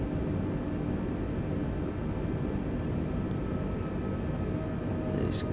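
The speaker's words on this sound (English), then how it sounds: "There's actually a plane coming in over there." An airplane in Microsoft Flight Simulator, heard from the cockpit of an Airbus A320neo in a thunderstorm, gives a steady broadband engine and airflow roar that runs continuously at a constant level.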